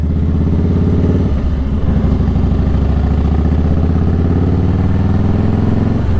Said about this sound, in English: It's got a V8 motor in it, 280 horsepower.